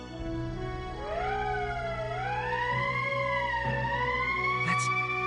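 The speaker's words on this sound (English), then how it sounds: "That's the emergency siren." An emergency siren in the video game Valkyria Chronicles wails with a rising and falling tone, steady and prominent, over a low background hum without speech.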